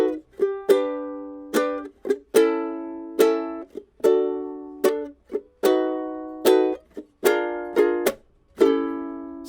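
An acoustic guitar strums a song's chorus slowly, with rhythmic down and up chord strokes broken by short muted chops, played close and alone without any voice.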